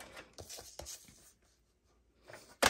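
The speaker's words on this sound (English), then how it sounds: "I'm going to cut off a little bit from each side" Cardstock is cut for a handmade card with a paper trimmer or blade, giving a few close scraping, sliding strokes, a short pause, then a sharp snap at the end.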